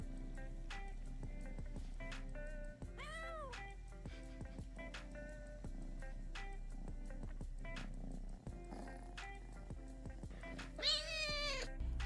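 Domestic cat meowing in a few drawn-out, rising and falling calls, the loudest near the end, over a steady background hum and scattered small household clatter, with no talking.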